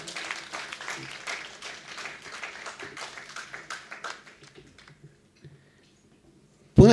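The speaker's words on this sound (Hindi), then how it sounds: "एक बार जोरदार तालियां" Audience applause at a Hindi theatre award ceremony as an honoree is felicitated, a dense steady clapping that thins and fades out over about five seconds, leaving near silence before a sudden loud bump at the end.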